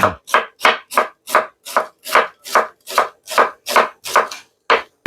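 A knife chops onion and garlic on a board for mutton biryani, about a dozen crisp, evenly spaced strikes in a quick steady rhythm, close and clear with nothing else heard.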